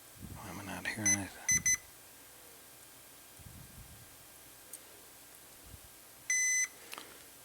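Multimeter in continuity mode giving short electronic beeps, one early pair and a longer tone near the end, amid faint handling noise and brief talk while testing a Synthrotek optical theremin kit's audio jack.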